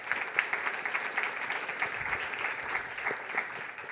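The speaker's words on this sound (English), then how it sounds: "So could we give them a round of applause?" Applause from an audience at a race and equity speaker series honoring event staff, steady dense clapping sustained throughout at moderate distance, no voices.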